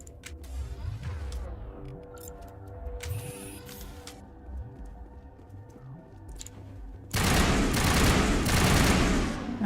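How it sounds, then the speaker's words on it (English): Rifle fire in the video game Mass Effect Legendary Edition: a dense, loud burst of shots over the last few seconds, after quieter game ambience and music. "Alright, let's try this rifle."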